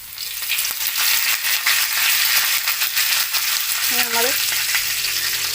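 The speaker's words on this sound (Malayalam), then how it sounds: "അപ്പോൾ നമ്മൾ ആദ്യം വെളുത്തുള്ളി ചതച്ചത് ഇട്ട് കൊടുക്കാൻ പോവുകയാണ്" Crushed garlic fries in hot oil with a loud, dense, steady sizzle and crackle, close up, and a voice speaks briefly over it.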